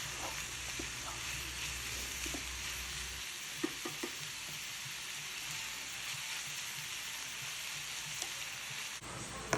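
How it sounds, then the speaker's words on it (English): Onions and other vegetables sizzle steadily in Cajun butter in a pan, a continuous close frying hiss broken by a few soft clicks and scrapes of stirring, with no talking. "We're going to go ahead and add the rest of the vegetables in there, and we're going to just stir them until they're nice and translucent"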